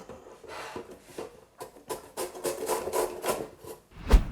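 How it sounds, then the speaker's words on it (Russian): Cabbage is rubbed against a Korean carrot grater in steady, rasping back-and-forth strokes, close and fairly loud, with a soft knock at the end. "тереть мы ее будем на терке для корейской моркови"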